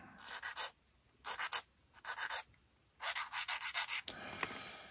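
Dry, scratchy sanding strokes on a small hard plastic part of a 1/48 scale B-25J model kit, coming in quick rhythmic bursts separated by short pauses, close and clear with no talking.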